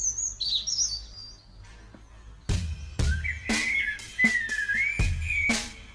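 A loop called Funky Birds plays chirping, whistling birdsong: a high warbling call at first, then a series of sharp, percussive hits with a looping whistled tweet winding over them, close and clear with no talk.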